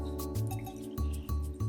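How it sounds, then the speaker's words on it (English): Water is poured into an emptied tomato can while making minestrone soup, a close, rhythmic gurgle of liquid filling metal with a few regular pulses, with no talk. "I'll fill the can up with water."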